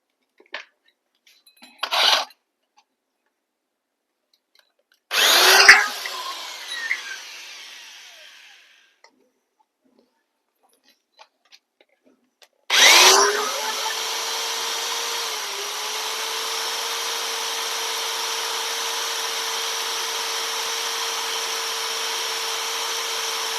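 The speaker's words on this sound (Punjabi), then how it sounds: "ਢੱਕਣ ਦੇ ਵਿੱਚੋਂ ਆਹ ਆਪਾਂ ਹੋਲ ਇਹ ਕੱਢ ਲੈਣਾ ਜੀ ਵਿੱਚੋਂ ਡਰਿਲ ਮਾਰ ਕੇ" A power drill bores a hole through a plastic bottle lid: short clattering handling bursts, then a sharp grinding bite and a steady, fairly loud motor whine that runs on to the end.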